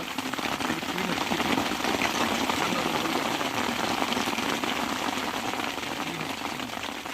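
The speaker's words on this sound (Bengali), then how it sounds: "আর তোমরা বৃষ্টির আওয়াজটা শুনতে পাচ্ছ।" Steady rain drums on a tent during a camping trip, a dense continuous patter that holds at an even level throughout, close and enveloping, with no talk over it.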